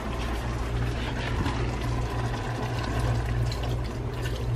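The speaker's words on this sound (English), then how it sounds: "Wash this out too again. Wash out the spoon." Water runs continuously while a shrimp bowl and spoon are rinsed out in a kitchen, a loud steady splashing rush with a low rumble, going on without pause and with no talking.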